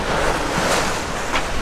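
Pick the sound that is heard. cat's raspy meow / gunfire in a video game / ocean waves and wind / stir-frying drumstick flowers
ocean waves and wind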